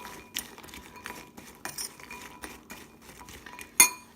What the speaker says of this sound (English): give them a mix around so that the seasoning can evenly spread out